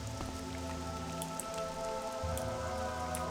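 Steady rain pours down in Morrowind, a dense, even patter of drops spread across the whole moment with no voices.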